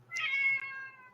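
A single drawn-out cat meow, loud and close, swelling then tapering off over about a second, with no talk around it.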